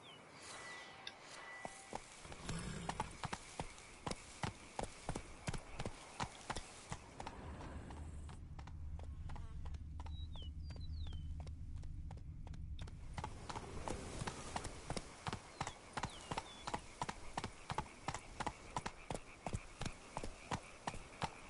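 Hooves of Roach, Geralt's horse in the video game The Witcher, clip-clop in a steady, loud trotting rhythm close by, briefly easing to a slower walk midway before picking up again.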